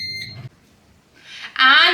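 An air fryer beeps after start is pressed, a short, loud electronic tone that comes at the end, following a brief bit of talk and a quiet pause.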